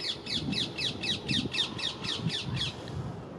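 Ring-necked parakeets in the UK call loudly in a rapid series of about a dozen harsh, shrill squawks, evenly spaced and close by, over faint background noise.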